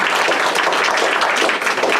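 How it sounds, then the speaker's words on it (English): A crowd applauding steadily at a candidate forum in a library, dense clapping that stays loud and even throughout. "Let's give a round of applause"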